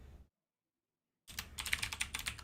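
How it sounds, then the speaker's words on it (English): A gamer's computer keyboard clatters in rapid, uneven bursts of close, crisp key clicks after a brief stretch of silence, with no talking. "Sorry for the keyboard."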